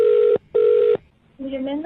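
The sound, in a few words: telephone dialing tones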